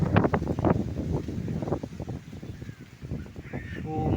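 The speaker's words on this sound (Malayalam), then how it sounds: "ഞങ്ങളുടെ അവിടെ വലിയൊരു മഴക്കാറും കാറ്റും വന്നു" Strong gusting wind ahead of a rain storm buffets the microphone in rough, uneven bursts outside a house with coconut palms in front, with faint higher calls in the background and no clear speech.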